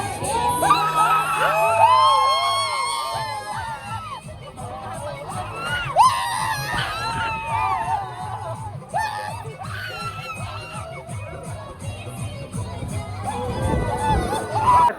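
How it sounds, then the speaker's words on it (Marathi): A crowd at Barad fort near Bhiwandi cheers, whoops and shouts, young voices yelling in bursts that rise and fall over a steady noisy hubbub, fairly close. "मित्रांनो कशा प्रकारे इकडे गर्दी आहे."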